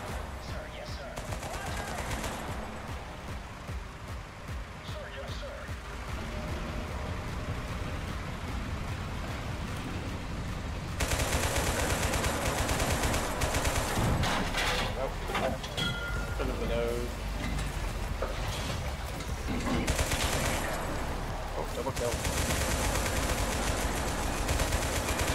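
Rapid gunfire in the shooter game Total Conflict: Resistance, dense bursts that grow louder and busier partway through, mixed with a steady hiss like rain, while a player talks over it.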